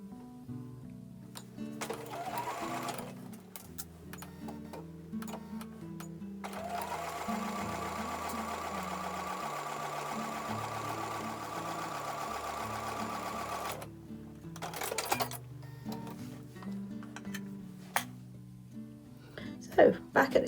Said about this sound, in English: I'm going to take that over to the sewing machine for the last seam.